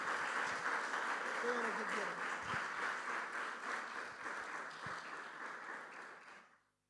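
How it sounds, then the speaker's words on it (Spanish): A church congregation applauds at a fairly low level, with the sound spread out and steady before it fades away at the end. "Den un fuerte aplauso al Señor."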